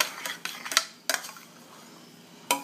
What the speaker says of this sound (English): And you just keep mixing that around till it starts to separate.